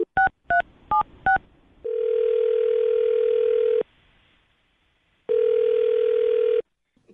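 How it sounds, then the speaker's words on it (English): A landline telephone beeps through four quick DTMF tones while dialing, followed by a steady dial-style tone that runs for about two seconds, stops, then returns for a second stretch; no voices. "I'm going to dial her phone number right now"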